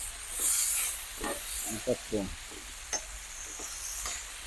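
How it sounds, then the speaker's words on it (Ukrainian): Pork fat (salo) sizzling and hissing in a pan over charcoal, with a few scraping stirs and small pops; quiet and close. "Процес піджарочки йде."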